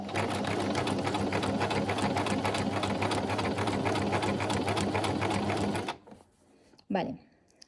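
A sewing machine stitches fabric in a sewing workshop, running in a fast, steady, close-up rattle for about six seconds before stopping abruptly, followed by a brief soft knock.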